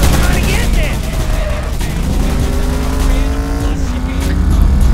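A car drifting in the video game Roadkill, its engine droning steadily with rising and falling tire squeal and rattling game effects, loud and continuous.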